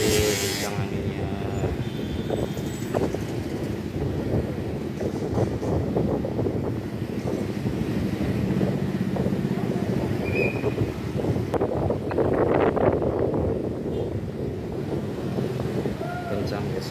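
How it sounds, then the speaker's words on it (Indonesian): Strong wind and heavy rain in Abepura, Jayapura, form a steady dense roar with gusty rumble, while a person talks intermittently over the storm. "Kencang guys anginnya."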